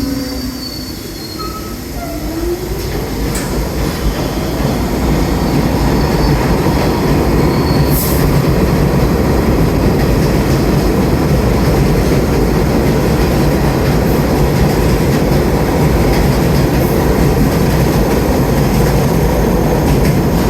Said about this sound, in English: That was a 10-car train.